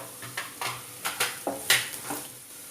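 Ginger, garlic and red chilli fry in a pan with a soft sizzle, punctuated by several sharp clinks and scrapes of a utensil stirring against the metal at irregular intervals.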